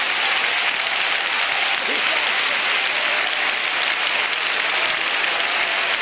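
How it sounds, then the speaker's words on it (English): A church congregation claps together during a worship service, a dense, steady roar of many hands that holds loud and unbroken throughout, with faint voices mixed in. "Clap as unto the Lord."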